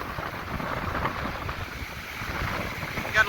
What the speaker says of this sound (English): Got a lot of surf.